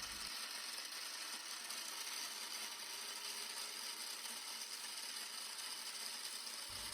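A 3D printed gearbox with its last gear removed spins at high RPM, making a faint, steady high-pitched whir with a hiss-like texture that holds unchanged for the whole stretch.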